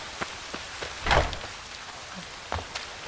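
Rain in The Witcher 3, a steady hiss of falling rain with scattered louder drops and splashes, fairly close and without talk.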